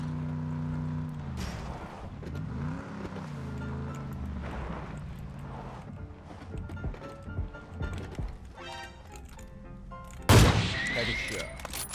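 A single sharp, loud gunshot lands a headshot in a battle royale shooter, cracking out near the end after a stretch of quieter game sounds and background murmur.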